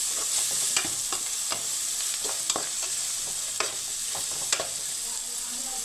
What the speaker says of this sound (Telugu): మళ్ళీ ఒక 2 నిమిషాలు మూత పెట్టుకొని వేయించుకుందాం